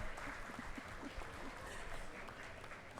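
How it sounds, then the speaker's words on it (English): Audience applause at a university convocation ceremony: a steady, dense wash of clapping from a crowd that holds level throughout, fairly distant and even, with no clear single claps standing out. "A big round of applause,"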